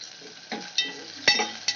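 Garlic, onion and coriander fry in a pan with a quiet sizzle, punctuated by several sharp spoon clinks and scrapes against the metal as the mix is stirred.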